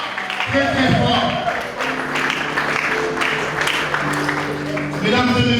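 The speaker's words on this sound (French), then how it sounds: "je vous prie, mesdames et messieurs, d'applaudir très fort" An audience at an evening NGO gala claps steadily and loudly throughout, a dense wash of applause beneath music and a voice speaking over it.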